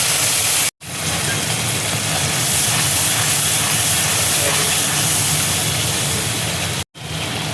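Spice paste hisses and sizzles loudly in hot oil with whole garam masala and bay leaves, while cooking veg echor (jackfruit curry). The broad, steady frying noise runs almost unbroken, cut by two brief silences.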